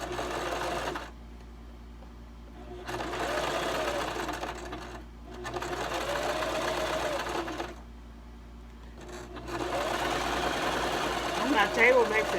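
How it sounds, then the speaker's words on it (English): A Brother LS2400 sewing machine stitches a face mask in loud bursts of rapid running, separated by short pauses, with a faint rattle from the table it sits on. "We're going to sew the other side."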